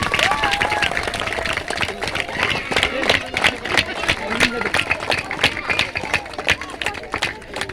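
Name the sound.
audience applause at a prize-giving ceremony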